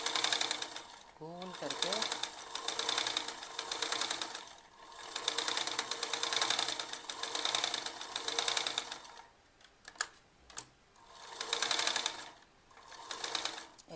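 A sewing machine runs in a steady rapid whir, stitching a circle on a baby frock in several long runs with brief pauses, close by, while someone talks over it.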